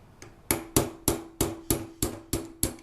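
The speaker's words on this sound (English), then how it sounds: "Basically, just tap it out a little bit." A punch being hammered against a stubborn pin on a Chiappa/Citadel M1 .22LR carbine, about eight sharp metallic taps in a steady rhythm, close and clear with no talk.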